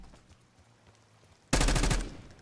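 Sustained rapid automatic gunfire erupts abruptly after a quiet stretch in the Black Ops 6 beta, following a tactical sprint, a loud dense burst lasting under a second.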